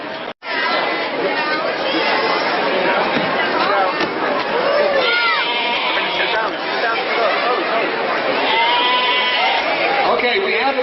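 Sheep bleat repeatedly at close range during a Pidyon Peter Chamor gathering in Detroit, with a dense crowd chattering and talking throughout.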